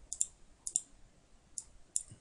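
Crisp computer mouse clicks come in four spaced double-click pairs, close and sharp over a quiet room.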